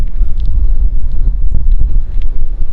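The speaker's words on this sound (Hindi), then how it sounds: "बहुत तेज हवा चल रही है।" Strong wind buffets the microphone on a high-altitude road route to Leh, a continuous loud, low roaring rumble with gusty surges and no voices.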